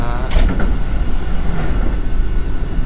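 A train passing in the opposite direction alongside a moving Bangunkarta economy-class train between Jogja and Jakarta, a brief loud whoosh and rattle over steady carriage rumble, with a voice talking.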